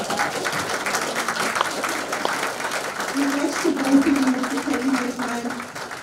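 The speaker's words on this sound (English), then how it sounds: "Give them a round of applause." Audience applause for young people, a moderate round of clapping from a crowd, steady and fairly close, with talking and murmuring voices mixed in beneath it.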